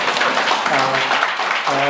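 Audience applause at a Korean book-concert talk event, a dense burst of clapping heard under and alongside a person speaking.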